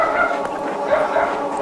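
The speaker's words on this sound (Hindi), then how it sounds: "ऐसे कुत्ते भौंकना शुरू हो गए अचानक से।" Several dogs bark and yip suddenly at night, a busy overlapping chorus of sharp barks with some whimpering, fairly close and continuous throughout.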